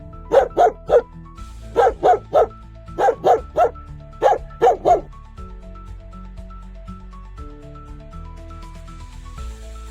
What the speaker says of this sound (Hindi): जिस तरफ भौंक रहा है ये, उस तरफ देखते हैं।